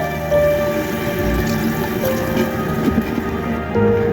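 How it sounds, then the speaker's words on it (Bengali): Water pours steadily into a pot of cooking beef for a khichuri meal, giving a continuous close splashing rush that lasts the whole stretch with no talk. "এ পর্দায় এসে আমি পানি দিয়ে দিচ্ছি"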